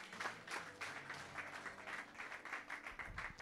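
Congregation applauding in a church, a faint, steady patter of clapping hands lasting the whole stretch, with no voices over it.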